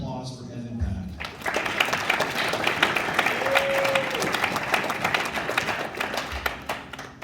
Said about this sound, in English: let's give a big round of applause for Evan Pack